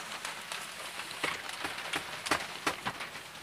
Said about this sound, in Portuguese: Começou uma chuva bruta agora aqui, tio.